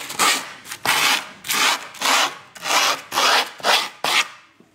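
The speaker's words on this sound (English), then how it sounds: "So just lightly filing." Grip tape along the edge of a skateboard deck being lightly filed with a rasp, about eight distinct rasping strokes in a steady back-and-forth rhythm, close and fairly loud, with no talking.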